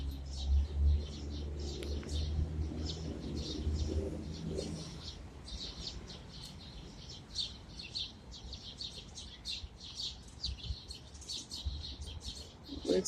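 Pigeons at a nest in an urban city, with soft low cooing early on and a steady string of small chirps and peeps from the birds through the rest, fairly close and modest in level.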